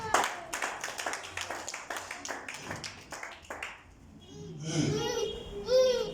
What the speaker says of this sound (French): Acclame pour la gloire du Seigneur.